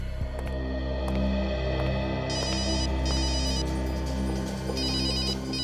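A telephone rings in repeated electronic trilling bursts over a steady low hum, loud and close, with no voices.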